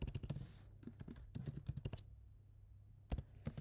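Rapid typing on a computer keyboard while writing Python code, bursts of crisp close keystrokes with a pause of about a second before a final short flurry.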